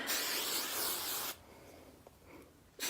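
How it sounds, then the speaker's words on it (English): A close can of hairspray hisses steadily for just over a second, stops, then a brief second burst starts at the very end. "So now I'm just going to spray it"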